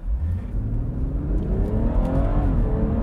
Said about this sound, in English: I'm just going to plant the throttle and see what happens.